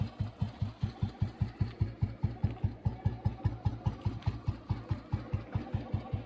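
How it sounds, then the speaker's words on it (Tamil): An old Royal Enfield Bullet Red Deluxe motorcycle idles with its classic silencer beat, a steady, evenly spaced thump about four times a second, close and alone. "ஃபஸ்ட்டு உங்களுக்கு சைலன்சர் பீட் பண்ணி தான் கேட்கும்."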